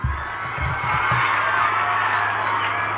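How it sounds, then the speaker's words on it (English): An audience at St. John's School's 51st anniversary in Tenali claps and cheers for a student, a continuous wash of clapping with whoops and children's shouts rising in the first second, then sustained. "You can give a big hand clap for him."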